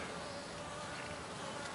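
Honey bees buzzing at a hive entrance, a steady close drone of many insects with no pauses throughout.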